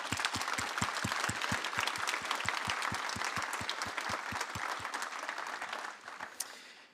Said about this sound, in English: So massive round of applause for them.